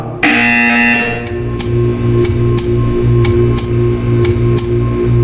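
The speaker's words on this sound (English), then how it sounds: "You will hear a buzzer. When you hear the buzzer, stare at the art." Short electronic buzzer pulses repeat at an even, rapid rhythm over a steady droning tone in Portal 2.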